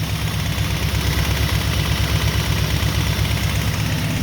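A 1991 Camaro Z28 V8 with about 173,000 miles idles steadily and loudly, with a fast, even ticking pulse running through the low rumble; no voices.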